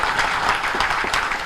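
Audience applause during a speech at a Tamil political gathering, a dense steady clatter of many hands clapping continuously throughout at moderate loudness, with no voices standing out.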